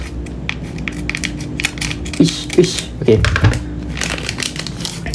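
Scissors snip and crinkle through the foil wrapper of a Monsta Galaxy trading card pack, giving a few close, crisp crackling cuts with a brief spoken word at the start.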